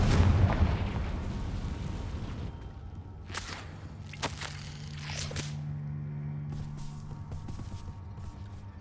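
Confringo spell cast in the video game Hogwarts Legacy, heard as a few sharp whooshing cracks and blasts spaced a second or so apart over a low, steady rumble of background game ambience.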